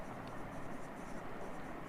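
A pen scratches steadily across paper during a maths lesson on plastering costs: a close, continuous, soft rasp with a faint hiss underneath.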